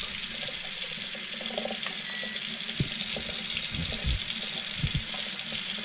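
Water runs steadily from a household tap into a sink, a continuous close hiss with a few faint clinks over it, no talking.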